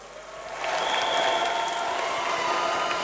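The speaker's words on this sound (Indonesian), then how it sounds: "Tepuk tangan semuanya." Applause from an audience at the Raka Raki 2016 grand final in East Java rises suddenly and holds as a steady, dense wash of clapping, loud and continuous with no talking.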